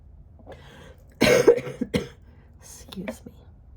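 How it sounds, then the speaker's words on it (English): A single harsh cough burst up close, followed by a couple of smaller throat-clearing coughs and a soft murmur. "I'll be happy when this cough goes away."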